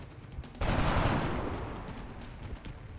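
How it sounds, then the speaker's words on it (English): Burst of gunfire from the XCOM: Enemy Within video game, a loud sudden blast onset followed by sustained crackling and rumbling that slowly fades over about two seconds, with no talk. "Hughes moves up and takes a shot at the zombie."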